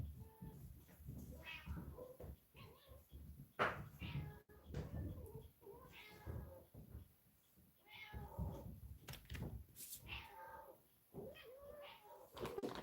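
Several house cats meow repeatedly and insistently in a kitchen while being fed, the calls overlapping and fairly close, with occasional soft knocks like cupboard doors in the background.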